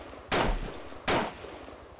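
Two heavy gunshot blasts in Arma 2 DayZ Overpoch ring out about three quarters of a second apart, each loud and booming with a rumbling tail, and no voices over them.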